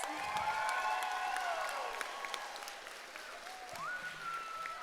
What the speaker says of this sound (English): And can you give the cast one more round of applause?